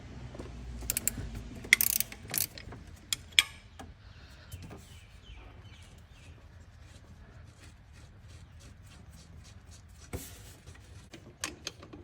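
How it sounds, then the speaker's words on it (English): A ratchet wrench loosening the bolts on a car's power steering pump, with bursts of quick clicking and metallic knocks separated by quieter pauses, close and clear. "let's go ahead and undo the 4 bolts"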